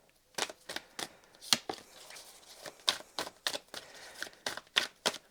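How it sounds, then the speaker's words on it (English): Tarot cards riffle and slap together in quick uneven bursts, a dozen or so crisp close shuffles with short pauses between them. "One day I'll learn to shuffle properly."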